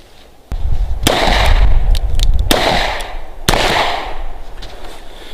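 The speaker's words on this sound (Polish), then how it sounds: "poprzez odwiedzenie kurka i oddanie strzału" Three sharp, loud revolver gunshots spaced a second or two apart, each followed by a short echoing decay, with no talking.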